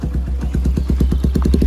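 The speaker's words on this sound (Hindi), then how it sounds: "आइडल में कुछ इसकी ऐसी आवाज़ है।" A modified Hero Xtreme 125R motorcycle idles through its aftermarket exhaust, a steady, close, loud single-cylinder putter with even rapid pulses and no voices.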